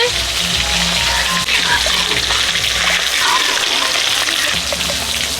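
Water is poured into boiled dal with turmeric in a pot, making a loud, continuous rushing splash that lasts throughout, with faint talk in the background.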